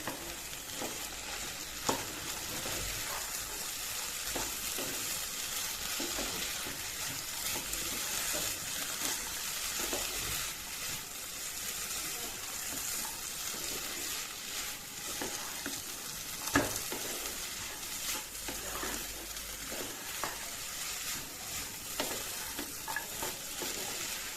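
Chickpeas frying in a pan with Radhuni garam masala powder being mixed in, a continuous bright sizzle broken by scraping stirs of the spatula, close and fairly soft, with no talking.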